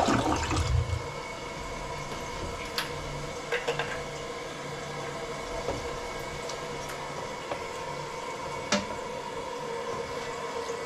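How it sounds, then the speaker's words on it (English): A household toilet flushes after a bowl cleaning, a loud rushing surge of water at the start settling into a long steady gurgle and refill hiss, with a few light clicks and knocks along the way. "Flush it one last time."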